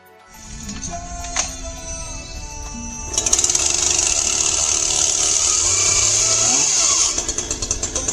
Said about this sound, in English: give the new chainsaw a test drive